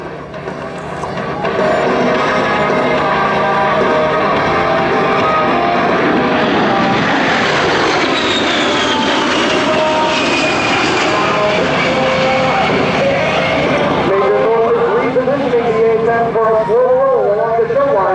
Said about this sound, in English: And now, from the left, Major Thorpe displaying the A-10's rolling maneuverability.